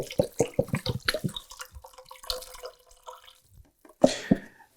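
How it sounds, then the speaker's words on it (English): Chicken stock poured from a box into a soup pot for creamy mushroom and wild rice soup, a close run of quick glugging splashes that eases into a quieter trickle, then a short final splash. "We're going to add the rest of the chicken stock."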